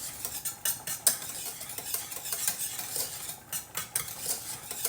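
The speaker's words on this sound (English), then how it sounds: "Sorry if you don't like the scratching sound." A utensil scratches and scrapes against a pan while pesto sauce is stirred, with quick irregular strokes up close, soft and continuous, with no talk.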